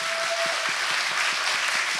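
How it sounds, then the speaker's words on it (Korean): Studio audience applause on a Korean talk show, a steady dense wash of many hands clapping that runs the whole time without talk. "박수 한번 주세요"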